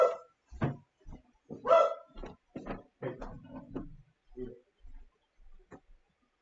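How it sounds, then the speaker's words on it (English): A pet dog barks indoors in a series of sharp, separate barks with short gaps between them, fairly close and loud, with no speech alongside. "So sorry about the barking."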